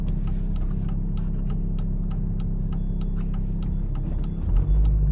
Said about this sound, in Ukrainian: Завчасно вмикаємо лівий покажчик повороту